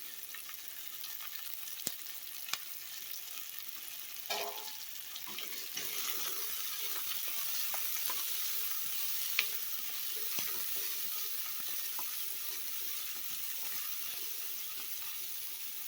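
Sliced cassava with green chilies and curry leaves fries in a pan, a steady soft sizzle with a few sharp clicks and stirring scrapes, close and continuous without talk.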